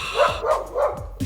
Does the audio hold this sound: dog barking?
yes